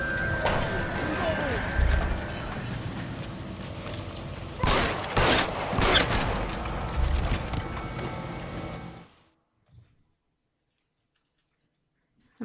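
Gunfire in the detective game L.A. Noire, a cluster of loud shots around the middle of the sequence over continuous game ambience and talk, cutting to near silence at the end.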